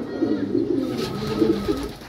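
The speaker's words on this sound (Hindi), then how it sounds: "राजा भाई, जो आपका जो होमिंग पिजन्स, जो रेसर कबूतर" Racing homing pigeons cooing close by in a Kolkata loft, soft throaty warbling calls overlapping in a short continuous stretch.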